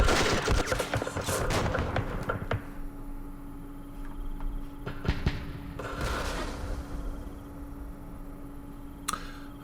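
Artillery fire in Campaign Series Vietnam at the Dien Bien Phu battle: several loud, sharp blasts hit in clusters, a dense volley at the start and more bursts midway and near the end, between stretches of faint ticking.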